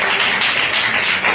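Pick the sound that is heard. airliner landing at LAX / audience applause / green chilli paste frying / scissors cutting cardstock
audience applause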